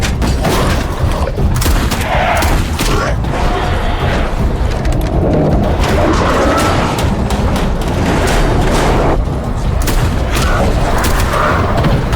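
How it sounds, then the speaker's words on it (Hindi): Dense, continuous barrage of booming gunfire and explosive blasts, loud and close, with scattered shouting buried in the din. "गोली चलाओ।"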